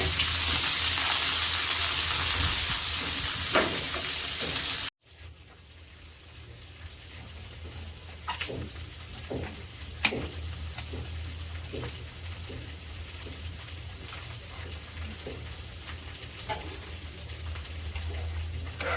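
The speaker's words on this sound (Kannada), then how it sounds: "ಸೊ ಇಷ್ಟನ್ನು ಚೆನ್ನಾಗಿ ಫ್ರೈ ಮಾಡೋಣ." Chopped vegetables and cumin frying in a pan, a steady soft sizzle with scattered crackles and pops, after a brief louder rush at the start.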